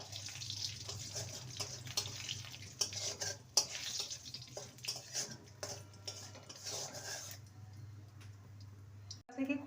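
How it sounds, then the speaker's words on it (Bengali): Halved bay leaf and whole cumin tempering in hot oil in a pan, a soft crackling fry with scattered clinks and scrapes of a utensil and a steady low hum, fairly quiet and close. "ফোড়নে দেব একটা তেজপাতাকে দু টুকরো করে দিলাম আর হাফ টিস্পুন গোটা জিরে ফোড়নটাকে কয়েক সেকেন্ড ভেজে নেব"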